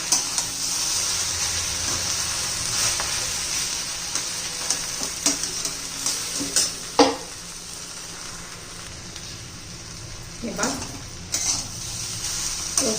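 Spicy okra sizzles steadily as it fries uncovered in oil in a pan, with occasional sharper scrapes and clinks from stirring cutting through the continuous hiss.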